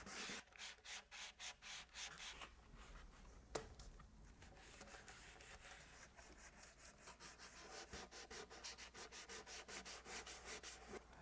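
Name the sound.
sanding ukulele wood finish with 400 grit sandpaper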